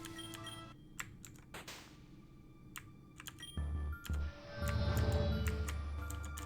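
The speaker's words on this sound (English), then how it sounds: "Friggin' hit my keyboard with that." A computer keyboard being hit and typed on: sharp, close key clicks, sparse at first, then quicker, over low game sounds in the background.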